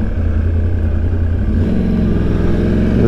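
A big, aggressive motorcycle on a test ride before a track day, its mid-pitched engine droning steadily and rising in pitch as it accelerates partway through, close and loud with no talk.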